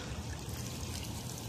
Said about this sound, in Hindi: पानी का फवारा